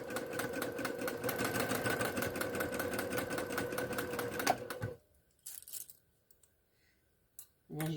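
A Brother sewing machine chain piecing fabric for a memory bear: a close, steady whirring stitch runs for about five seconds, then stops, followed by a few faint handling clicks.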